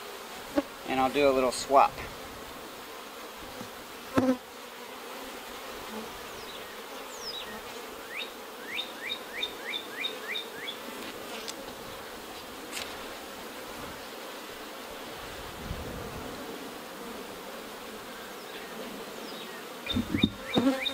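Honey bees hum around an opened hive while frames are swapped during a split, a soft continuous buzz with individual bees zipping past the microphone. Someone speaks briefly near the start and end.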